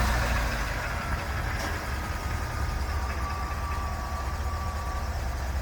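A high-mileage truck engine with 266,000 miles idles at a steady, even low rumble, continuous and close, with no speech and no revving throughout.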